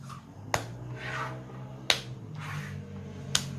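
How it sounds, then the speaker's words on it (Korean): A child claps hands three times during a therapy session, three sharp, well-spaced claps close to the microphone over quiet room tone. "박수 3번."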